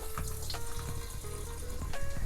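Water runs from a water pump, a steady trickling splash with faint tonal whines and small clicks, fairly quiet and close, with no talk.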